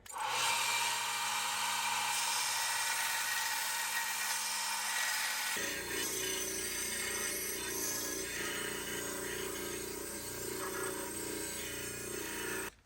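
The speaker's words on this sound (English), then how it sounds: "Look at this little cheapy belt sander. I've had this thing for years. I don't know what it is, some probably Harbor Freight thing, but I tell you, it's still running good." A small, cheap belt sander, probably a Harbor Freight tool, runs continuously and close by, a loud high-pitched whine whose tone shifts midway as the belt takes on work, with no talk over it.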